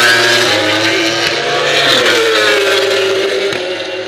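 Racing motorcycles, a satellite Honda and a factory Ducati, roar past at Laguna Seca's Turn 11, a loud, sustained engine whine heard from the grandstands.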